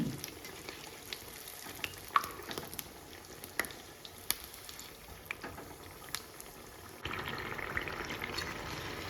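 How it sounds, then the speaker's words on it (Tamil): Potato spring rolls frying in hot oil give a steady, close crackling sizzle with scattered pops, growing denser and louder toward the end. "அப்படியே சுட்டு எடுத்தமாக்க சூப்பராக நமக்கு ஸ்ப்ரிங் ரோல் ரெடி"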